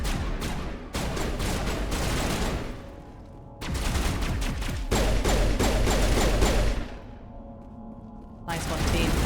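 Bursts of rapid automatic gunfire from a sci-fi shooter, Mass Effect Legendary Edition, in a dense loud barrage broken by brief lulls, with low booms and in-game voices mixed underneath.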